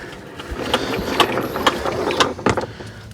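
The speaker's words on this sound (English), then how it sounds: "And you always want to walk in the hose reel." Vego retractable garden hose reel winding its hose back in, giving a steady close mechanical ratcheting clatter with repeated sharp clicks across a few seconds.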